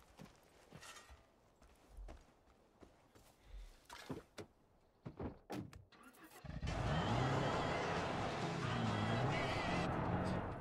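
Cars in the video game Far Cry 5, with scattered clunks and thumps first, then a loud, steady engine roar of a vehicle driving that holds to the end.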